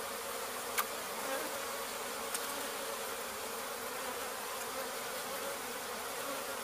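A honey bee swarm hums in a steady, dense drone that fills the whole stretch, close and even, with a couple of faint clicks and no voices.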